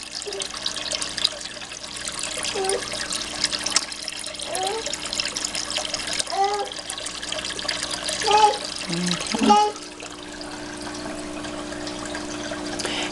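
Water runs steadily into an aquaponics tank with a constant trickling flow, close by, while a voice murmurs faintly in the background over the pouring.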